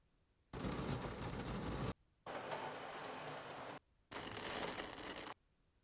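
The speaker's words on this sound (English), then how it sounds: "Maybe let's try rain on window." Three separate bursts of steady rain pattering hard against glass, each lasting about a second and a half, with short silent gaps between them.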